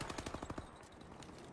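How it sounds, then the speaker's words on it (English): Rapid automatic gunfire from a distant firefight in a Call of Duty match, a quick burst of evenly spaced shots that fades into a looser rattle. "There's a firefight over there."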